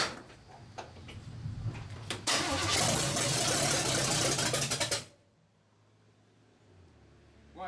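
An engine, its fuel pump just primed, cranks with quick ticking turns. It then roars loudly for a few seconds before cutting out abruptly into near silence, followed by a faint low rumble.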